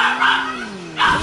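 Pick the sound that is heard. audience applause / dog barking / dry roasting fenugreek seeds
dog barking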